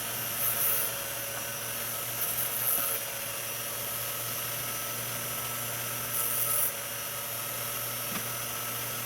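Tips of cheap flush cutters being slowly shaped on a grinding tool, a steady motor hum with short hissy grinding bursts when the metal touches, repeated a few times.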